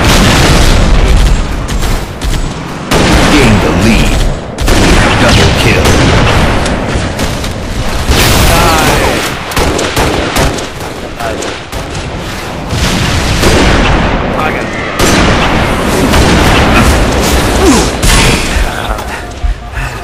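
Rocket launcher blasts and explosions from a video game boom loudly and nearly nonstop, heavy rumbling bursts packed densely with crashing impacts, with a few brief gaps between barrages.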